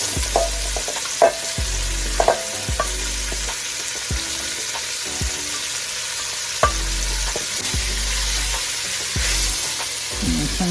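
Vegetables fry and sizzle in a pot with mild Italian sausage while a utensil stirs, giving a steady hiss broken by several soft clanks and scrapes, with no talking.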